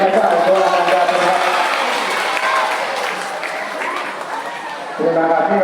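Sustained applause from an audience at a National Jamboree sharing session fills the room, steady and loud throughout with a voice speaking over it near the end.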